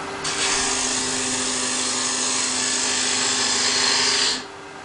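A wood lathe turning a foot on a tenon, a steady high, hissing cut that starts abruptly, holds evenly for about four seconds close by, then drops away over a faint motor hum.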